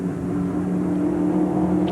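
NASCAR SuperTruck race truck engines at a Tucson race, a steady mid-level droning rev with a faint whir, moderately distant and continuous with no talk over it.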